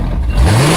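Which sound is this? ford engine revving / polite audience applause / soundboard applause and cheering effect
ford engine revving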